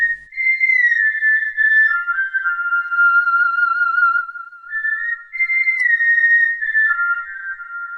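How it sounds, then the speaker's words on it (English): A person whistles a tune alone, a clear steady melody of sustained sliding notes held for several seconds each with brief breaks, close and fairly loud. "She knew that it was Aladdin who was whistling."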